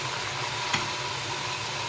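Meat sizzling in hot oil in a pan while cooking nalli nihari, a steady close crackle with one brief sharper pop partway through.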